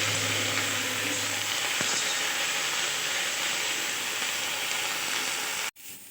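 Mint leaves fry with salt and turmeric in a pan for a Bengali mint-leaf bharta, giving a steady loud sizzle and hiss that holds evenly before cutting off abruptly near the end.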